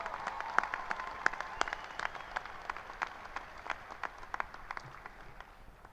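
A crowd at a Grand Ledge High School graduation ceremony claps steadily for families and friends, a dense, even patter of many hands with a few sharper claps standing out, moderately loud and continuous throughout.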